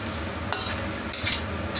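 Squid tossed into a pan of sautéed tomato, onion and garlic for adobong pusit sizzles steadily while two short scraping stirs of a utensil sound close by.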